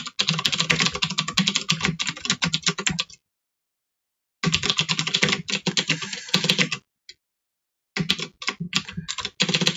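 Rapid clattering keystrokes on a computer keyboard come in three bursts separated by brief pauses, close and fairly loud with no talk.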